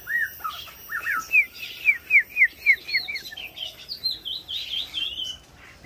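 A tame tiểu mi songbird sings a rapid, varied run of bright chirps and whistled notes, a quick series of clear repeated calls followed by looser twittering, close and fairly loud against a quiet background.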